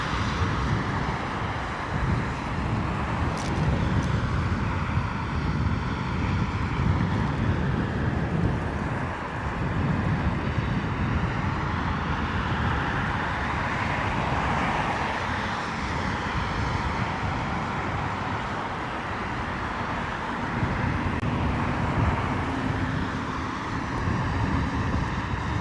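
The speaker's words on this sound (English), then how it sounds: "Boeing 787-10 Dreamliner, Saudia, coming in from Jeddah." A Saudia Boeing 787-10 Dreamliner lands at London Heathrow in wet, windy weather, its engines a broad steady roar and rumble mixed with gusting wind noise across the microphone, with no talk.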